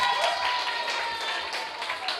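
Audience applause at a finance ministry expo quiz, a steady spread of clapping from a modest crowd, moderately distant and even, lasting the whole short stretch.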